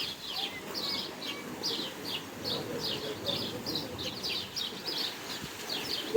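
Repeated high chirps from birds at an Odesa Black Sea beach sound over a soft, hissing outdoor background, fairly faint and regularly spaced.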